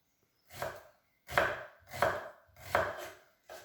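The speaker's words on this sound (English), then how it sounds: "we just dice up our onion, comes out in nice dices" A knife chops through an onion on a cutting board for a bacon, cheese and potato tortilla, five firm rhythmic dicing strokes, close and clear with no talking.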